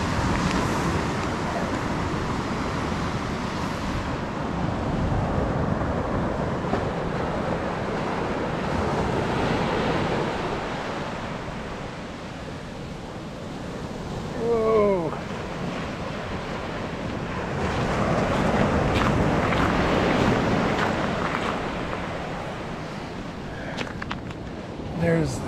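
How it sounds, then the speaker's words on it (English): Ocean surf rolls and breaks along Curracloe Beach in Ireland in long swelling washes, mixed with gusty wind noise on the microphone and a few faint background voices. "And here's the waves coming in."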